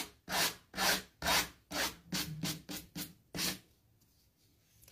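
Scrapbook paper glued onto MDF is sanded by hand in about nine rhythmic, scratchy strokes, close and fairly loud, before the rubbing stops and near quiet follows.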